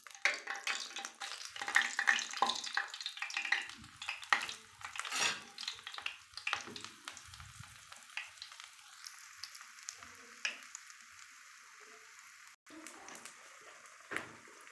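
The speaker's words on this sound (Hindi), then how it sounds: "अब इसको हम फ्राई करेंगे ब्रेड को इसमें।" Bread slices frying in hot oil for shahi tukda, with a steady close sizzle and crackle broken by utensil scrapes and stirring clatter, fading quieter toward the end.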